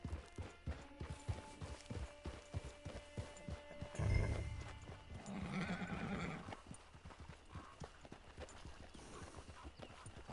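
A horse in the video game Red Dead Redemption 2 clip-clops with a steady rhythm of hoofbeats, gives a loud whinny midway, then keeps trotting, all at moderate distance with ambient game sound.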